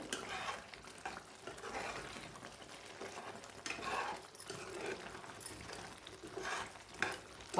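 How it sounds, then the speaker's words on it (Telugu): Prawn curry stirred in a pan after garam masala goes in, a soft continuous sizzle with scraping spoon strokes and light clinks, faint and steady with no talk. "గరం మసాలా వేస్తున్నాను ఒకసారి మొత్తం కలుపుకుందాము"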